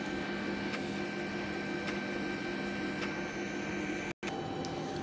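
A Fujifilm BMD bone density machine running a scan, giving a steady electronic hum with faint tonal whine and occasional soft ticks, continuous apart from one brief dropout; no one speaks.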